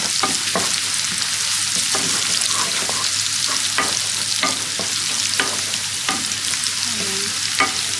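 Chopped garlic fries in hot oil in a pan, a steady bright sizzle with frequent stirring clicks and scrapes of a utensil, close and continuous with no talk.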